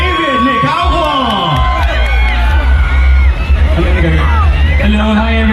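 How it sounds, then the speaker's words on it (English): A large crowd of fans cheers, whoops and screams for actor David Licauco at a live event, a loud continuous roar of shouting and excited voices throughout. "give your biggest cheer for David Nicauco"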